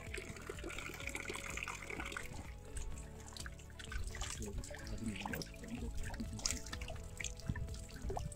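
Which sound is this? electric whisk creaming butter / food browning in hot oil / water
water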